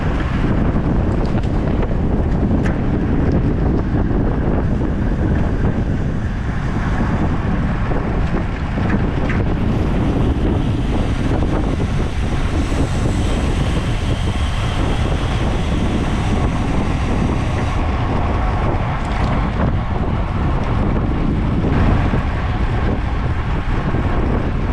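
Strong headwind roars continuously across a bicycle racer's microphone during a circuit race, a loud, unbroken rushing buffet with no voices.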